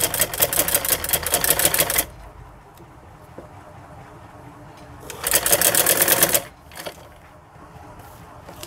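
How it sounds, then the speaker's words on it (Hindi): A sewing machine stitches palazzo pant fabric in two fast, steady runs of rapid needle clatter, close and loud, separated by a quiet pause with faint handling noise. "अब हम इसी तरह से दूसरी तरफ से भी अपनी सिलाई को कंप्लीट कर लेंगे"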